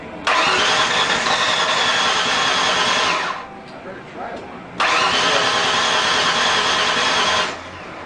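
A SHO car at a 2007 SHO convention starts and revs up in two loud, sustained bursts of about three seconds each, with a brief quieter gap between them and voices faintly around.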